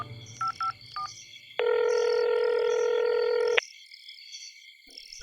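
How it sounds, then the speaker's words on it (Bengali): A phone call is placed: a few short keypad tones, then one long steady ringback tone on the line, followed by near silence and a faint sound at the end. "রিং হচ্ছে ওপাশে"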